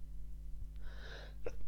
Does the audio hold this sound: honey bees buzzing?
no